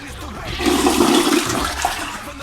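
A toilet flushes loudly and close, a rushing, gurgling swirl of water that holds steady for a couple of seconds, played as a sound effect.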